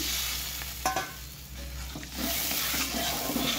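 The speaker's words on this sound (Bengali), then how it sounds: "দেখো আর একটু জল দিয়ে দিলাম" Water poured into a hot pan for a snakehead fish curry hits the oil with a close, crackling sizzle, accompanied by stirring scrapes and a steady low burner rumble underneath.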